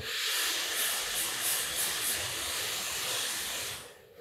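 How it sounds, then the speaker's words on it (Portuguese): A hair dryer blows steadily at its hottest temperature and highest speed, a loud, even rushing hiss that runs for several seconds before easing off at the end. "o secador é na temperatura mais quente e na maior velocidade possível"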